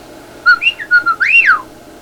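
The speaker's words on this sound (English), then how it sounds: "he blinks his eyes, bobs his head, flaps his wings, and lets out a merry chirp" A 1986 Worlds of Wonder animated Woodstock toy bird lets out a merry chirp, a bright whistled trill of quick rising and falling notes lasting about a second, close and clear with no talk.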